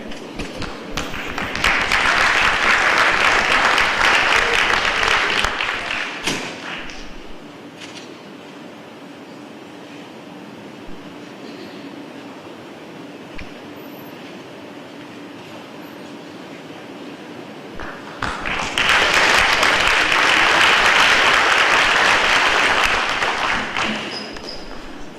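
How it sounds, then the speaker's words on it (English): Two long bursts of enthusiastic crowd applause at the 2016 Uniontown Hall of Fame ceremony, a hall full of clapping hands with a quieter stretch of room noise in between. "let's give Jeff another round of applause"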